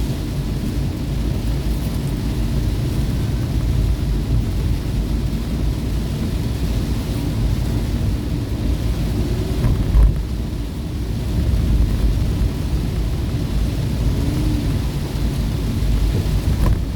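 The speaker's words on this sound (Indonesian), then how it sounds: "Hujan semakin deras." Steady, dense downpour of heavy rain roars throughout at night, with low rumbles of thunder rolling underneath and a brief louder crack near the middle.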